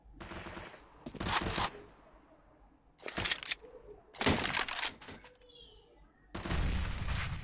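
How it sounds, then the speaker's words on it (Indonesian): Gunfire bursts in a CS:GO match at an online esports tournament, coming in several separate loud volleys with short quieter gaps between them. "ada tembakan teman lagi"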